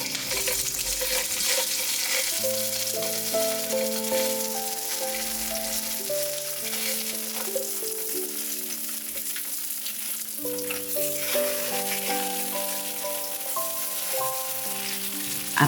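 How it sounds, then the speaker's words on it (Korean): Tofu sizzles and fries in a generous pour of cooking oil in a pan over high heat, a steady crackling hiss running throughout beneath a layer of melodic background music. "강불에 올려주세요. 식용유를 넉넉히 둘러주세요. 두부부터 올려서"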